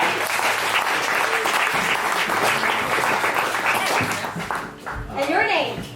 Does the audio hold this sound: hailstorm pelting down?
no